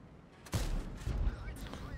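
A tank cannon shot from the AMX Foch 50B in the World of Tanks video game, one sharp blast followed by a rumbling tail and a second thud. It is moderately loud, with no talk.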